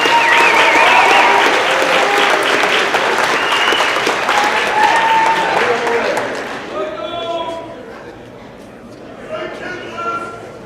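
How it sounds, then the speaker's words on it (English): Loud applause and cheering from a large crowd at a company celebration, with voices mixed in, then the clapping thins and fades into scattered chatter. "let's make some noise for Michael Hibben"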